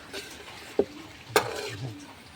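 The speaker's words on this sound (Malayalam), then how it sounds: "നമുക്ക് നന്നായിട്ടത് മിക്സ് ചെയ്ത് എടുക്കാം. നന്നായിട്ട് ഇളക്കി" A spoon stirs chicken curry ingredients, including a freshly ground paste, in a sizzling pan. Two sharp scraping knocks against the metal stand out over a soft, steady frying hiss.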